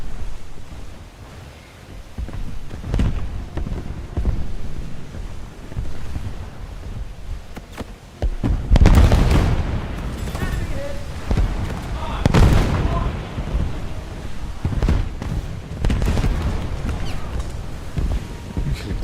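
Missile strikes from a heavy cruiser slamming into cargo ships in a naval combat video game, with broad rumbling bursts near 9 and 12.5 seconds over a steady sea-and-wind ambience, partly under talk.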